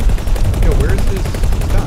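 Ship weapons fire at the player in the space game X4: Foundations, a dense, steady barrage of rattling shots that runs loud and unbroken from start to finish.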